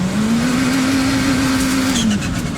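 Loud, close roar of a supercharged side-by-side with a CVT holding a steady high whine while accelerating, then easing off with a brief blow-off hiss at the end.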